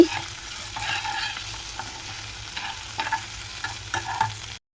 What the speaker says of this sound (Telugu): ఫైనల్గా పుదీనా యాడ్ చేసుకొని ఒక రెండు నిమిషాల పాటు ఫ్రై చేసుకోవాలి